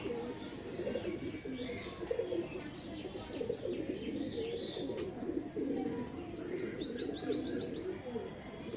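Madras pigeons and young squabs cooing together nearby, a steady bed of low throaty coos with occasional higher chirping calls and faint voices in the background.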